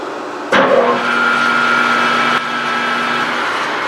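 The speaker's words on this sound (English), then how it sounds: "So we got our wiring all done, got the machine going." A Precision Matthews TL1640 lathe switching on and running at 100 RPM, an abrupt start followed by a steady low motor hum with a faint whine, close by and without speech.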